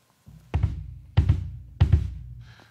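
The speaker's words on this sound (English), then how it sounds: "some people like to do them heel down, which is possible, which kind of looks like this." Heel-down bass drum pedal double strokes on a kit, three pairs of low kick thumps in a slow steady pattern, close and fairly loud with no talking.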